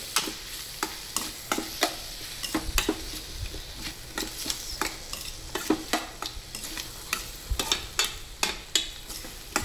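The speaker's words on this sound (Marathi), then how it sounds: "आता हे मसाले पण आपल्याला तेल सुटेपर्यंत चांगले फ्राय करून घ्यायचे आहेत।" Spices and garam masala fry in oil in a pan for a dried Bombay duck masala, a steady sizzle broken by frequent rhythmic scrapes and knocks of stirring, close and continuous with no talk.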